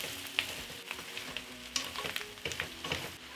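Goat meat seasoned with cumin, chili powder, turmeric and paprika sizzles in a frying pan while being stirred, with scraping strokes at irregular intervals over a steady close fry and no talking.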